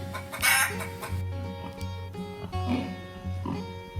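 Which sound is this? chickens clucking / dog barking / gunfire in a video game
chickens clucking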